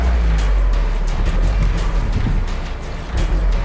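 A Mazda Miata engine revs up from idle, a loud continuous low rumble with rising and falling swells, recorded close and heard alone.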